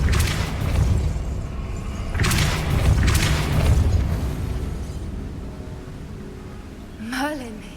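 Depulso spell bursts in Hogwarts Legacy, a cluster of heavy booming blasts in quick succession, loud and close, then a quieter rumbling stretch ending in a short rising magical chime.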